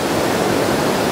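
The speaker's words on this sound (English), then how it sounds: "it's not a waterfall or anything, but they're pretty intense rapids" Rushing river rapids at Blakeney, a steady, loud broadband roar of churning whitewater, continuous and unbroken with no voices over it.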